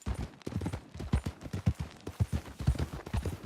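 Horse hooves clip-clop at a steady trot in the video game Red Dead Redemption 2, a close, evenly spaced run of hoof thuds that continues without a break.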